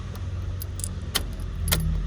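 Keys jangle and click against the ignition of a 1978 VW Kombi T2 camper van, a few sharp metallic rattles close by over a low steady background rumble, with no engine running.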